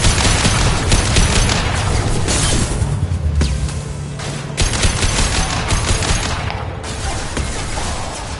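Dense, sustained gunfire from the shooter video game Mass Effect 2, with rapid bursts, booms and crashes layered loudly and continuously for several seconds, no voices.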